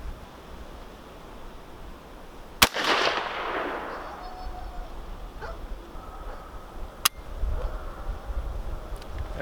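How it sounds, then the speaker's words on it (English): Two sharp rifle shots from a Savage A17 WSM fired at an outdoor target, each a loud close crack, the first trailing into a rumbling echo, spaced several seconds apart over background noise with no speech. "I'm gonna go ahead and take the shots at the center of the target up there"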